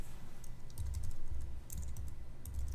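Typing on a computer keyboard, an irregular patter of soft key taps close by over a low background rumble, with no speech.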